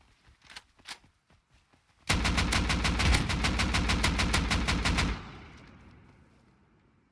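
A pipe shotgun fires in the Rust video game as a rapid, loud burst of repeated gunshots lasting about three seconds, then trails off into a fading echo, with quieter scattered sounds before it.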